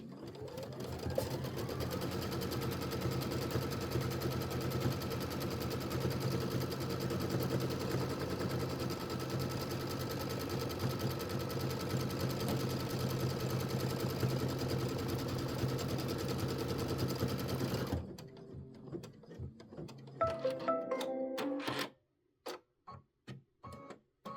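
An embroidery machine stitches a placement line for accent fabric on a tabletop display project, a steady rapid mechanical whirring and ticking that runs continuously, then stops near the end, leaving a few short clicks and thumps.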